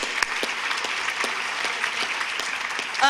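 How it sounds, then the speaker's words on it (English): An audience at an opening plenary welcome gives a round of applause for volunteers, steady, moderately loud clapping with a few sharper individual claps standing out. "if you could give me a round of applause for them, that'd be awesome"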